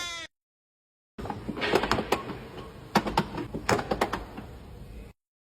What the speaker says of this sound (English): Door check mechanism.